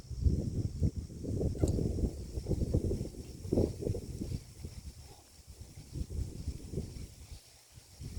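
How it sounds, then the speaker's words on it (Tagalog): Gusty wind buffets the microphone in low rumbling bursts, rising and easing over several seconds with no one speaking. "Sobrang hangin."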